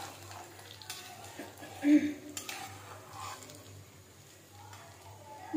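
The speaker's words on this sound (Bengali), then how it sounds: "এগুলো ভাজা হচ্ছে।" Crispy potato rolls fry gently in oil over low heat, a soft, uneven sizzle with occasional bubbling and utensil sounds under a speaking voice.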